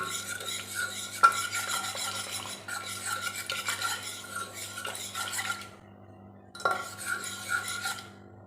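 Cooked lentils (dal) with onion and chillies stirred in a pot, with bursts of scraping and soft spoon-on-metal clinks in several strokes separated by short pauses, close and fairly quiet.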